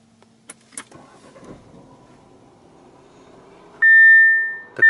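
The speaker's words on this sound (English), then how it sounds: "what I want to go ahead and do is start the ignition" A 2017 Audi A4's push-button ignition chimes with a steady electronic tone, followed by the engine turning over and catching, after a few soft clicks.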